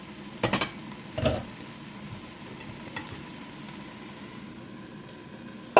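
Bigos, the Polish hunter's stew, being stirred in a pan over medium heat: a few scraping stirs near the start and one more midway, over a soft steady sizzle, with a final scrape at the end.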